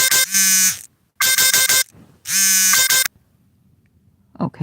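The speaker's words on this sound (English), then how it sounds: "That's the alarm going off." An alarm buzzer goes off in three loud harsh bursts with short gaps between them, followed by quiet and a faint noise at the end.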